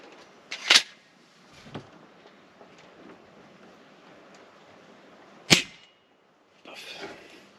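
Two sharp, snappy discharges from an Umarex HK MP7 SD 4.5 mm pellet air gun ring out outdoors several seconds apart, each a brief crack amid faint rustling background, with a softer click in between.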